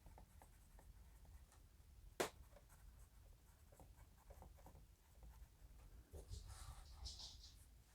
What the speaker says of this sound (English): I will be able to tell when I write with it.